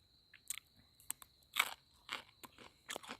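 Crunchy food is bitten and chewed outdoors on a misty countryside morning, giving close, crisp crunches in short separate bursts, about half a dozen, with near silence between them.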